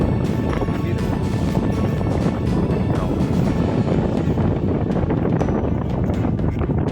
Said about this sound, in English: Getting a bit of gusty wind here.